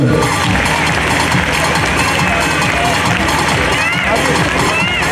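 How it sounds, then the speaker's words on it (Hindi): Loud, sustained applause and cheering from a large crowd at a school annual function, dense and continuous throughout with a voice over the crowd. "जोरदार तालियां"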